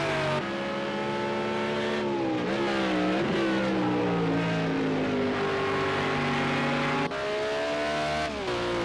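Race car engines in Project Cars 2 at the Nürburgring GP circuit, a loud sustained roar that rises and dips through gear changes, with a short cut in pitch near the end and no talk.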